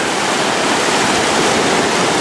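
Sea waves on the beach at Lignano, Italy, a loud, steady wash of surf noise with no breaks and no voices.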